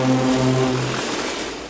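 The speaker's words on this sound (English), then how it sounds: "And diesel engines sound their electric horns" A diesel engine's electric horn blares in one steady, loud, multi-tone blast lasting under a second, fading into a low engine hum.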